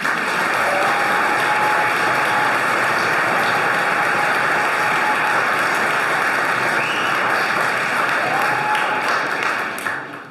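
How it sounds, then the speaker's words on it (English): An audience at a flute orchestra concert applauds in a continuous, even wash of clapping that fills the room loudly for about ten seconds before beginning to fade. "Now you can give an applause."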